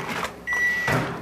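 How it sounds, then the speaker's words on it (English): A microwave oven runs with a steady hum while heating a bag of vegetables, and a clear sustained tone rises over the drone partway through. "I'm going to have to pop this in the microwave"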